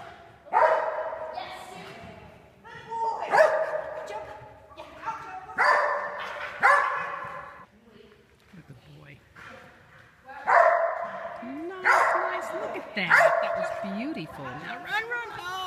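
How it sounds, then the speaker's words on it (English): Australian Shepherds bark in repeated bursts, loud and close, with short pauses between volleys and some yips mixed in. "Damn, barking Aussies."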